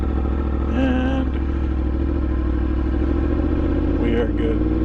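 A Yamaha MT-10 motorcycle fitted with an Austin Racing exhaust idles with a steady, deep, throbbing rumble close by, while a voice speaks briefly over the engine.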